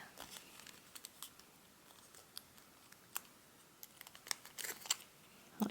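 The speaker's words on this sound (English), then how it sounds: "I'm gonna just fold it back forward again" Origami paper being folded and creased by hand. Faint, close crinkles and sharp little crackles come in irregular bursts, growing busier toward the end.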